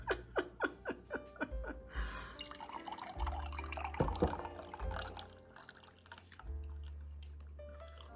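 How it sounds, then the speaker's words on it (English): Canned pineapple juice draining into a mug, starting with rapid dripping that turns into a trickling pour, close and fairly quiet, with soft laughter partway through. "I got my pineapple that I'm going to drain and keep the pineapple juice because it's yummy."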